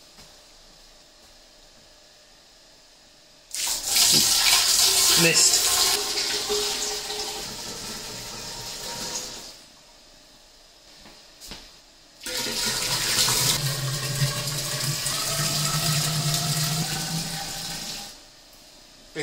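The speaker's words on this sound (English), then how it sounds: "I'm making up a 10 litre solution in an 18 litre keg by pouring in warm" Warm water poured into an 18 litre keg in two loud bursts of rushing, splashing flow, each lasting several seconds, separated by a quiet gap, with the pitch deepening slightly as the vessel fills.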